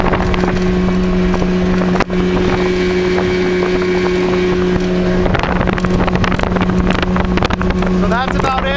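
An Arrow Glass motorboat runs at full throttle across a lake, its engine a loud, steady droning roar with wind buffeting the microphone throughout.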